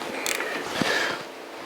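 A nut is threaded onto a bolt during an Old Man Emu spring install on a 1982 Jeep CJ7. A short metallic creak and turning grind are heard up close, with one small clink partway through.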